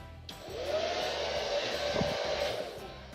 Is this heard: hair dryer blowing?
yes